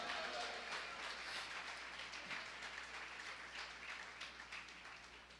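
A church congregation at a Christian community service breaks into applause, a faint, distant wash of many hands clapping that holds steady for several seconds before thinning slightly.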